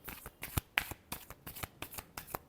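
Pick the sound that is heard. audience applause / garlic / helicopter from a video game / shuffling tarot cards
shuffling tarot cards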